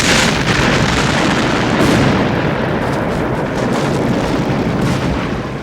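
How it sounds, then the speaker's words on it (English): Explosion from the 1993 action movie Best of the Best 2, a loud sustained roaring blast with rolling debris and rumble that fades slowly over several seconds. "But we get an amazing explosion in this movie."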